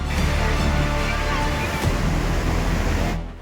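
Floodwater roars out through six crest gates of the Hemavathi reservoir at about 46,000 cusecs, a loud, steady, broadband rush like surf that holds constant for the whole stretch and fades at the very end.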